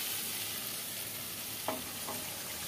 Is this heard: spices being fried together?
yes